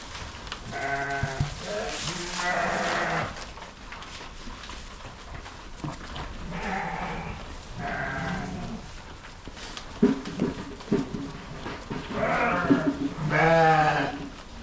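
Dorper sheep on a farm bleat loudly and close by, with repeated overlapping calls in several bursts and brief quieter gaps between them.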